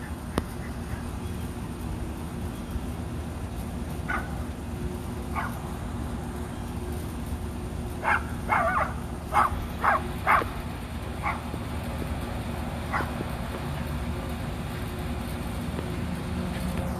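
Rat terriers let out a scattered run of short, sharp barks, somewhat distant, over a constant low background rumble.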